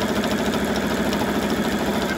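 A sewing machine runs steadily, stitching bias tape close to the edge of a bandana dress, with a continuous, even motor hum and rapid needle rhythm throughout, loud and close with no talking.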